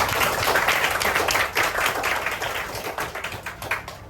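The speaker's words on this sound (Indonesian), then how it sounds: "Tepuk tangan yang meriah." Students in a classroom lesson clap together, a loud, slightly uneven burst of hand claps that thins and becomes more distinct toward the end, with no talking.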